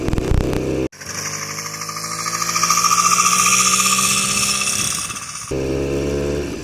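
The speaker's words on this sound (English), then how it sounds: "what if a motorized bike but comfortable like a motorcycle? That's this." The engine of a motorized bike built for motorcycle-like comfort runs close by with a rapid, buzzy, knocking putter that rises in pitch as it revs and then drops back to a steady idle.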